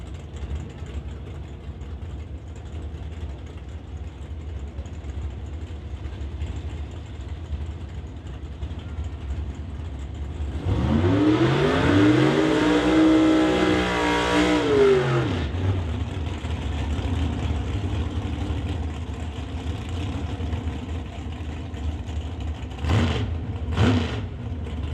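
Drag race cars, the Evans Excavating Nova and the Blue Max Bel Air, launch with a loud roar of revving engines that lasts several seconds over track ambience, followed later by two short sharp bursts.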